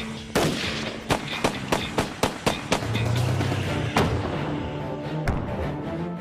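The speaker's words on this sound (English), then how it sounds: "The sound of gunfire out here means the sound of freedom." A rapid series of sharp gunshots rings out outdoors in the Nevada desert, some in quick bursts and some spaced apart, loud with echoing tails.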